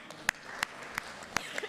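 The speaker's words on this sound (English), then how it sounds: "You all deserve a round of applause." Scattered applause at an annual town meeting, a handful of faint, separate claps spaced irregularly over a quiet room.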